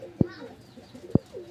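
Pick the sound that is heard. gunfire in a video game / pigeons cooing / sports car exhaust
pigeons cooing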